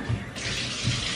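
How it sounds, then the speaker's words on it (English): Bathtub tap running to rinse the tub, a steady close hiss of flowing water with a couple of low thumps underneath. "Turns on the water to rinse it out after he's already in it."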